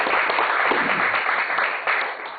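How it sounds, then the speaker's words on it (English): Audience applause welcoming Mr. Kim onstage at an evening event honoring Korea crusader Homer B. Hulbert, a dense, steady wash of clapping from a full room that fades slightly at the end. "let's welcome Mr. Kim with a big round of applause"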